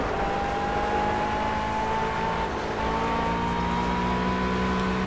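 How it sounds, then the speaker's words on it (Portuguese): A blue McLaren 12C GT3 race car in the Project Cars game laps the Nordschleife, its engine a loud, constant high-pitched drone with steadily rising pitch as it accelerates, with no voices. "O som dessa McLaren, galera, é show de bola"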